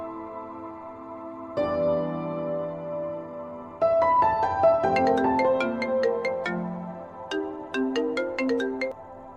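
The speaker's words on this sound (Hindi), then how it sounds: "इतनी रात को फोन कॉल?" A melodic phone ringtone plays its tune in repeated phrases, clear and fairly close, with no talking over it.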